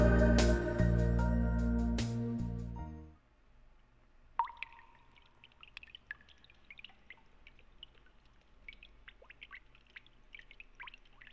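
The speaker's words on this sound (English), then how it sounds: "all I can hear is that stupid water." Water drips and trickles in the video game Gaia's Melody 2, arriving as scattered small irregular plinks after a loud musical passage ends, quiet and alone with a faint steady background.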